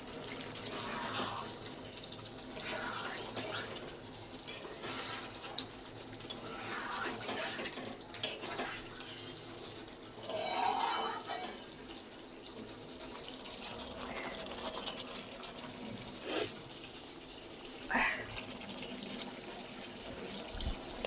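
Hot water poured into meat cooking in a pot in a home kitchen, a steady watery splash and hiss lasting throughout, with faint clinks of utensils and no voices.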